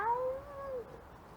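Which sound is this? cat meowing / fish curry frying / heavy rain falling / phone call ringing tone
cat meowing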